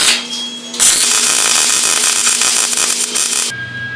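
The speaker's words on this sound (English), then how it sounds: "We could just weld the plate in there right on that edge and see what it does." Welding a plate onto a 1976 GMC, a loud continuous crackling buzz that starts abruptly and holds steady for nearly three seconds before cutting off, close by.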